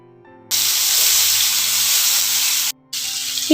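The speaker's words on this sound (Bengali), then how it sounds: "এই তেলটাতেই আমি পেঁয়াজটাকে ভেজে নিলাম।" Onions frying in oil left over from frying aubergines, a loud hissing sizzle that starts abruptly after a quiet moment, with one short gap before it resumes, no talk.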